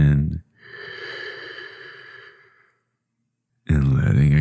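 A single deep, slow breath drawn in during a guided meditation, a soft, airy rush lasting about two seconds that fades to silence between stretches of calm speech.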